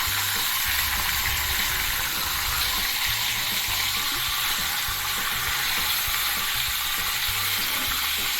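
Pork chops sizzle and crackle steadily in a frying pan as their fat renders, a constant close hiss throughout with no voices.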